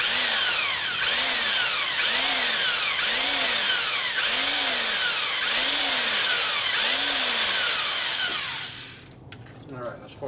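A power drill bores out a stripped Allen bolt on a Harley Showa part, its steady high-pitched whine pulsing with regular load cycles before it winds down abruptly, leaving brief clatter.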